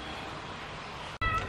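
A neighbours' cat meows close by at home, asking for food; a short, clear meow sits at the end after a steady background hum, with no talk over it.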